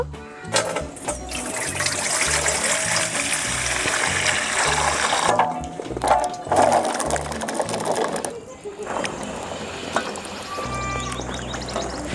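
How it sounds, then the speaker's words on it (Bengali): Sour local jujube fruits are rinsed under running tap water, a steady splashing stream with the clatter of fruit being handled, briefly dropping off and resuming midway before continuing to the end. "কুলগুলো এবার ভালো করে জল দিয়ে ধুয়ে নেব।"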